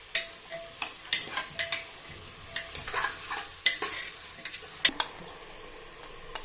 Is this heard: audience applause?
no